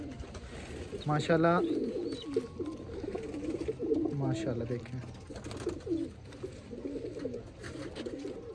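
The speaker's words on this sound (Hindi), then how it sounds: "बंदुम का कबूतर है बंदुम की कबूतरी" Pigeons coo softly in a loft, a male and female pair handled close by, their low throaty calls surfacing between a voice speaking over them.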